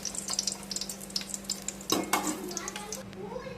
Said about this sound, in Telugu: ఆయిల్ వేడైంది. ఈ దినుసులన్నీ వేసేసానండి